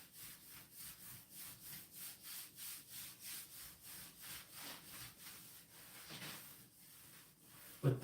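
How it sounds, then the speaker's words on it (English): Steady rhythmic rubbing strokes as grout seams are smoothed at the top of a shower, a regular back-and-forth scraping close by that slows near the end, with no talking. "going with the lines the way I'm doing right now, it smooths out the seams and finding"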